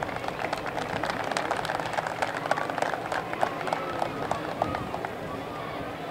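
A crowd at the opening ceremony of a U14 Latino classic baseball tournament applauds with dense, steady clapping that carries on for several seconds, with voices mixed in.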